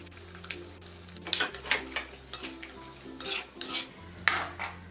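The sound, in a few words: prawns frying and stirred in a pan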